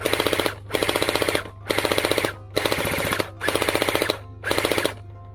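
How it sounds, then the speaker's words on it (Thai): A gel blaster gun fires gel balls in six rapid bursts of about five to six shots each, with short pauses between bursts. The shots are close and fairly loud, and a steady motor hum runs underneath. "เรายิง ยิงเสาไฟตัวนี้ก็ได้เนี่ย โดนแน่นอนนะครับ"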